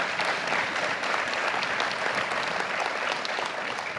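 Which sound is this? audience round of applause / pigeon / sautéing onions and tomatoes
audience round of applause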